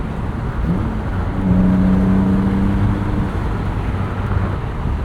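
A 1999 BMW M Roadster convertible's engine pulls steadily under acceleration, its tone rising and holding from inside the open car, moderately loud over road noise with no one talking.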